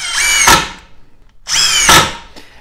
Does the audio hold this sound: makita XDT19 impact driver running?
yes